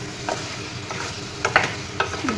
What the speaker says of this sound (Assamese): এইখিনিও মই এনেদৰে অলপৰ কৰি এফালৰ পৰা লৰাই যাম যাতে হালধি আৰু মছলাখিনি ভালদৰে মাংসৰ লগত মিহলি হয়